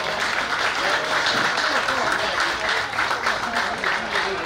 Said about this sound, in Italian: chiedo un applauso per tutti loro